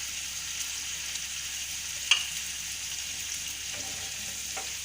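Idli cylinders with a splash of water and green coriander cook in a pan, giving a steady, soft frying sizzle throughout, with one brief sharper crackle partway through and no talking.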